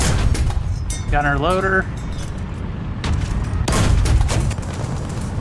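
Video game gunfire, loud sharp shots in quick bursts with booming impacts, while a voice speaks briefly partway through.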